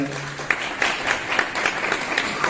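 Audience applause at a poetry gathering, a kavi sammelan held at IIT Kanpur, heard as steady clapping with regular sharp claps standing out, moderately loud and close.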